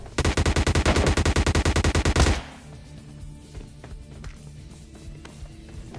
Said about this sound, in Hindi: फुटस्टेप्स भी आ रहे थे और गन शॉट्स की आवाज भी आ रही थी